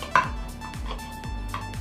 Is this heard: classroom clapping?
no